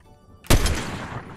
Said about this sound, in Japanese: サイレンサーついてんのにサイレンサーついてないぐらいの爆音がするんだよな